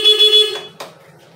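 A Honda Beat scooter's horn sounds in a short, close honk of about half a second, followed by a faint click.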